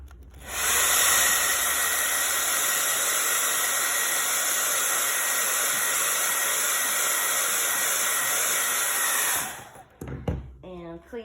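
A hair dryer blows on wet paint during a brush-painting session, producing a loud, steady whooshing hiss for about eight seconds before it cuts off, followed by brief handling noises and a short voice.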